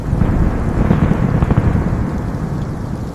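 A thunderstorm rumbles as a loud, continuous low roar, with wind and rain noise building and swelling through the first half. It eases slightly near the end of the short stretch, and no voices are heard.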